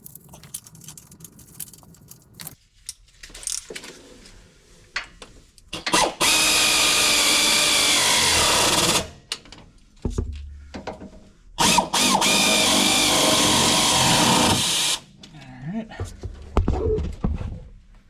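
A power tool tightens a metal lock nut and washer onto the sway bar of a Prevost coach. It gives two loud, sustained whirring bursts of a few seconds each, with someone talking before and between them.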